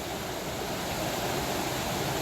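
Steady broadband rush of a fast-flowing river current at Scantic River, Powder Hollow, a continuous near wash of water with no pauses and no voices.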